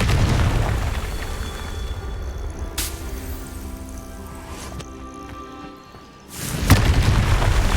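A Confringo spell explosion in the Hogwarts Legacy video game, a deep boom with a bursting crack, followed by a brief lull and then a second sharp blast near the end, over game ambience.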